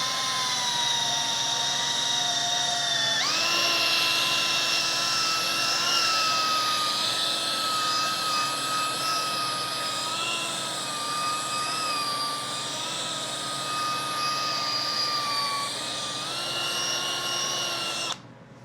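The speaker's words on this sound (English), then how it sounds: "Gonna use just a drill with a small buffing pad." A power drill fitted with a small buffing pad whines loudly and continuously, its pitch shifting as it spins against a metal-flake painted surface, then stops at the end.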